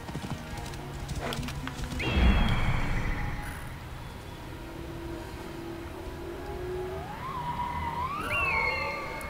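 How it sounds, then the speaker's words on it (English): A horse gallops in the video game Assassin's Creed Origins, rapid hoofbeats drumming steadily throughout, with a neigh near the start and rising tonal game sounds later in the scene. "I love how fast a horse gallops in this game"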